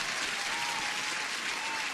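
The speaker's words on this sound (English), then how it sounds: "Parminder, let me give you an applause." Steady applause from a crowd fills the whole stretch as a dense, even wash of clapping with no pauses.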